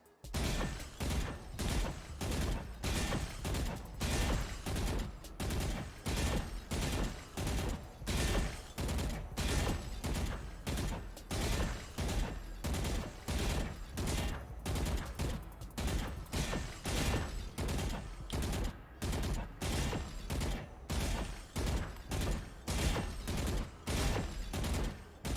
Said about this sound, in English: over here I do about 2 to 3 minutes of shooting the targets.